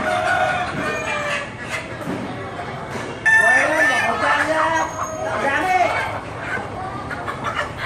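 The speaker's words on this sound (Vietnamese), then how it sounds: "Những chú gà trống hồn nhiên cất tiếng gáy tạo nên âm thanh rất riêng của một ngôi chợ truyền thống" A rooster crows a few times at a traditional Hanoi market in Vietnam, its calls rising over steady crowd chatter and general market bustle.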